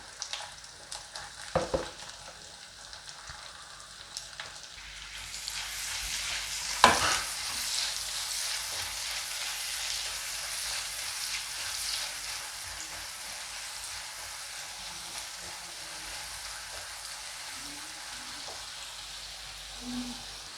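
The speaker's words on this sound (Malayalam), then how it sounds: "ഇനി ഞാൻ ഇതിലേക്ക് ഒരു ഉള്ളി പൊടിയായി അരിഞ്ഞത് ഇട്ട് കൊടുക്കുകയാണ്." Finely chopped onion drops into melted butter in a pan for paneer butter masala, starting a steady soft sizzle with occasional scraping stir sounds, close and continuous with no talking.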